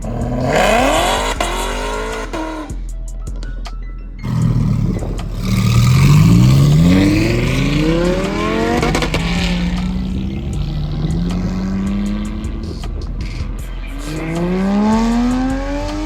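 Muscle cars, including a manual Hellcat and Mopar models, rev hard and accelerate one after another while leaving a Cars and Coffee meet, loud rising engine sweeps passing near with gear changes and a brief quiet gap.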